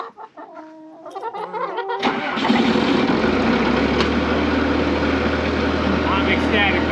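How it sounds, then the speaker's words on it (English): Chickens cluck nearby for about two seconds before a loud engine starts up and drowns them out with a steady running drone. "Chickens."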